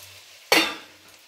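Paneer cubes tipped into a hot pan of boiled potatoes and fried spices give one loud, close sizzling burst that fades over about half a second.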